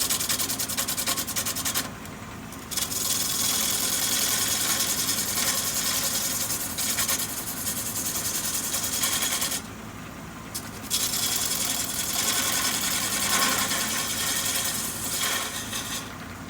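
A wood lathe turning a punky bowl blank at 1,000 RPM, a steady rasping hum with scraping and rubbing of a tool on the wood, broken by two short pauses in the cutting.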